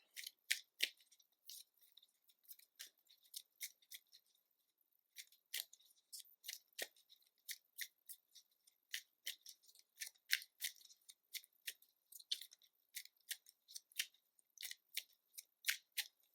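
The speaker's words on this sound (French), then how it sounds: "je les place dans le deck. Et je brasse." A deck of cards is shuffled during a card game, giving soft, close, quick crisp riffles and snaps in short irregular bursts, faint and without talk.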